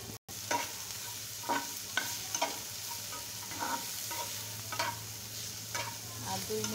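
Sliced bitter gourd (ucche) fries in a pan with a steady hiss and crackle, broken by periodic scraping strokes of a spatula stirring the pieces; no voices are heard.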